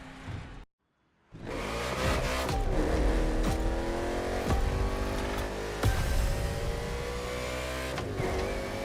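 Race car engines roar loudly and continuously in a NASCAR video game street race set in Hawaii, layered with revving, shifting pitch and tire squeal after a brief silent gap near the start.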